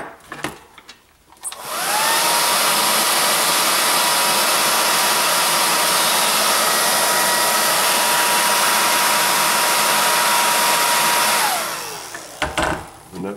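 A hair dryer dries a coat of paint on a figure, switching on with a loud, steady blowing roar that holds for about ten seconds before winding down and cutting off.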